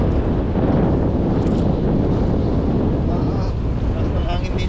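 Strong wind roars steadily across an open dam where fishing nets are checked, a loud broadband gusting rumble buffeting the microphone throughout with no pause.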